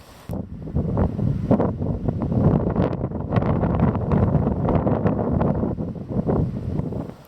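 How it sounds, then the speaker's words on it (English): Gusting wind buffets the microphone outdoors on a hillside on the Kintyre Peninsula, a loud, rough rumble that swells and eases for several seconds with no one speaking. "It's become a bit overcast and the wind's got up a bit."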